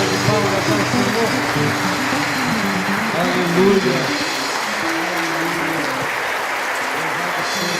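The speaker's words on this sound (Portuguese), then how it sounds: "uma salva de palmas ao Senhor" A church congregation applauds during a worship service, a dense, steady wash of clapping that fills the room while a voice speaks over it.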